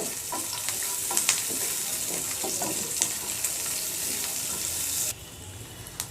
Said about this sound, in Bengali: এখন এই তেলের ভেতরে রসুন আর পেঁয়াজটা একটু নরম করে ভেজে নিতে হবে